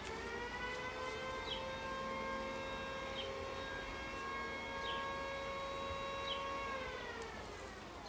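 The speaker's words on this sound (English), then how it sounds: "it seems like a fucking siren went off" A civil defense siren wails steadily from a distance, its tone holding for several seconds before sliding slightly downward near the end, with no voices.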